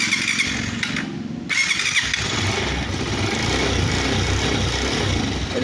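A Honda TMX 125 motorcycle is started with the push button and the choke on: a short whirring crank, then the engine catches and settles into a steady, close, low putter.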